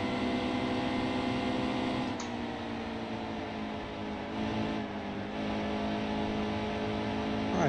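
A NASCAR Xfinity stock car engine in the NASCAR Heat 2 video game, driven at Kentucky, drones loud and steady through a corner, its pitch dipping and climbing again as the throttle comes back on.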